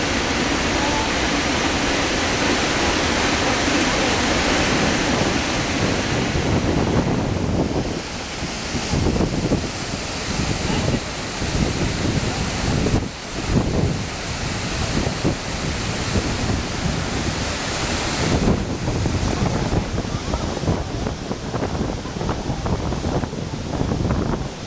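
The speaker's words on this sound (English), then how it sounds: "The waterfall begins at the top of the Krimml and plunges downward in 3 stages." Krimml Waterfalls crash down in three stages of 140, 100 and 140 metres, heard as a steady, dense, close roar of plunging water that fills the whole stretch without pause.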